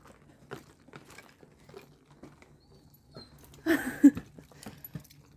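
A Cane Corso puppy whimpers and whines behind a door, with soft scratching and pattering sounds and a brief louder burst of rustling near the end.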